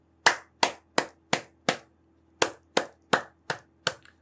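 Ten separate, sharp hand claps from a single person in a Korean stock-market broadcast studio, evenly spaced in two groups of five with a short pause between, loud and close with no talk.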